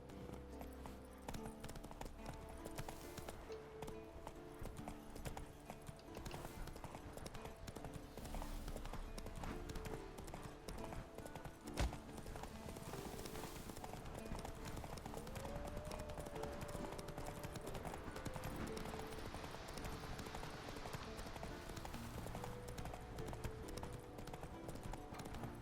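Hooves of a horse galloping in The Witcher 3 pound out a continuous, even clip-clop rhythm for the whole stretch, set against a constant bed of in-game ambience.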